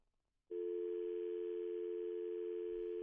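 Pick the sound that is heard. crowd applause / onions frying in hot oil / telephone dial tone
telephone dial tone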